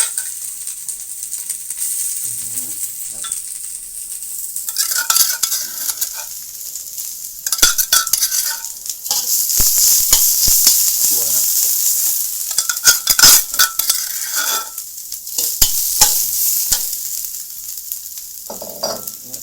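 Chillies and rat meat sizzle and crackle loudly in hot oil in a pan, with occasional scraping and clinks of a utensil stirring throughout.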